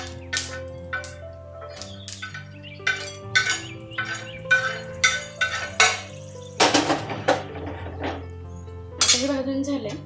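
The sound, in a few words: roasted eggplant being moved into a dish with utensils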